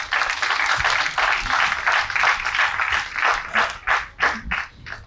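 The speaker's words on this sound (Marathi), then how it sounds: "म्हणून त्यांच्यासाठी आपण टाळ्या वाजवू" An audience at a Marathi Bhasha Gaurav Din celebration at MGM University applauds a poet with a sustained wash of many hands clapping, swelling into separate, rhythmic bursts of clapping near the end.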